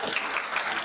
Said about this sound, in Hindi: एक ताली बजाएं कितने लोग